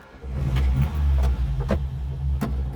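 A Saab Sonett V4 pulls away, its engine giving a low, throbbing rumble that swells and eases in waves, near and steady throughout with no talk over it.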